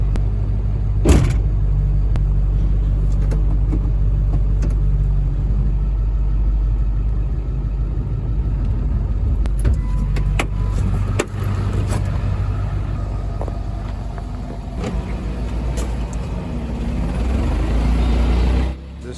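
The engine of an old truck runs just after starting, a loud, steady, close-up rumble that holds for the whole stretch, with a few knocks and clanks on top.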